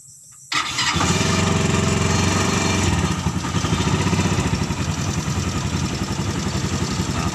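Small homemade car powered by a motorcycle engine with a Thunder exhaust cranks on the starter, catches and settles into a loud, close, rapid putter that keeps running with slight throttle blips.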